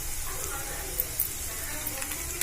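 Spices sauté in oil for mango pickle with a soft, fairly faint sizzle and a few light clicks of stirring against the pan.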